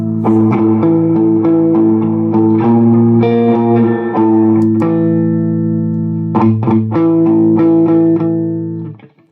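Distorted electric guitar chords ring out through a Marshall 3203 amplifier with lingering reverb, sustaining between strums before cutting off abruptly at the end.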